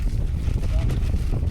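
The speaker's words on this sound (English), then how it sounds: "it's getting a bit windy" Winter wind buffets a hillside on the Edale Skyline in the Peak District, a steady, loud rumbling roar hitting the microphone without a break.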